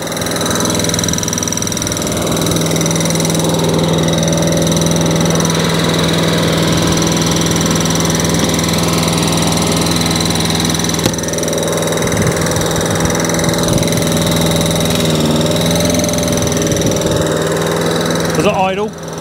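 A Hayter 48 lawn mower engine runs and idles steadily up close, a loud constant mechanical drone with a vibrating hum that lasts the whole stretch, with voices talking at times.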